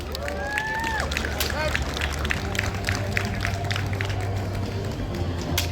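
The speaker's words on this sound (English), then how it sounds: "Let's give them a round of applause." Audience applause after a kendo club demonstration at the Tsunagi Matsuri in Venice, a crowd clapping steadily at moderate distance, with voices talking over it and a brief rising whistle-like tone at the start.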